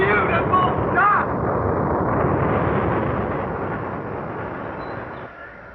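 A rocket launch rendered as a radio-drama sound effect: a sustained, loud broadband roar that holds steady for several seconds and slowly fades toward the end, with no voices over it.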